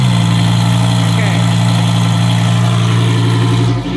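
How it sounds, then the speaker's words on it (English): A twin turbo Lamborghini Huracan runs loud and close at a steady idle, its even engine drone holding throughout before cutting off abruptly at the very end. "Let me hear it start up first, though. Twin turbo Huracan."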